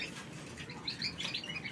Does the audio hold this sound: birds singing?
yes